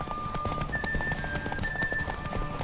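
A horse gallops in The Witcher 3, its hooves drumming a quick, even clip-clop close by over a sustained musical tone.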